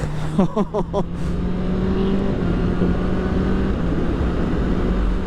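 A Honda CBR650R motorcycle with E-Clutch is ridden at speed, its engine giving a steady droning hum under heavy wind rush. A rider's brief exclamation is heard at the start.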